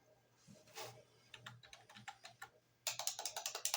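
A Google search is typed on a computer keyboard, first as scattered individual keystrokes and then as a fast, loud run of close, crisp clicks.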